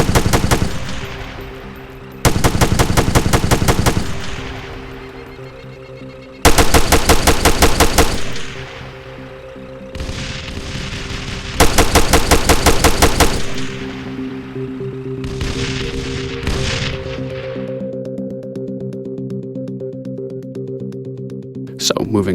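Loud bursts of automatic machine gun fire from ArmA 3 come in several long volleys separated by brief pauses, with a steady hum of game ambience underneath.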